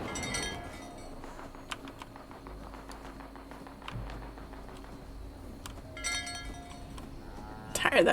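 Cattle moo in Fallout 76, a few drawn-out calls amid light tapping and ambient noise.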